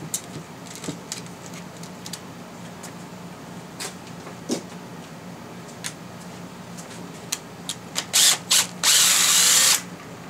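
A power tool loosening 13mm alternator bolts on a 1998-2000 Ford Ranger XLT 3.0L V6, scattered clicks and ticks followed by short loud whirring bursts near the end, close by without speech.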